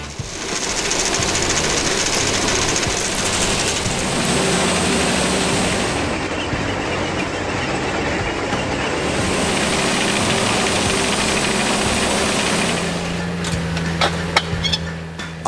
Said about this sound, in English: Its superior ballast cleaning enhances track stability and longevity.